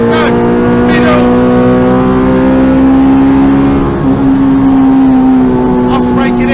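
A K-swapped Renault Clio race car at full throttle, its loud engine note holding a steady high drone with a slight dip and recovery partway through, while a coaching voice calls out over it.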